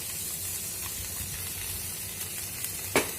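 Ground peanut paste hits a pan of frying spices, giving a steady close sizzle and hiss with a small stir or clatter near the end, no voices.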